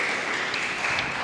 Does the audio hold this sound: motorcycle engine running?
no